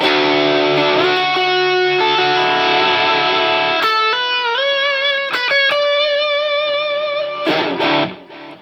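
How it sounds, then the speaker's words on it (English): Enya Inspire carbon fiber smart guitar played with a lead tone and delay, sustained distorted notes and bends ringing out in a solo line with echoing repeats, then fading at the end. "the final tone, so the purple tone, is kind of like a lead tone for solo playing and stuff like that"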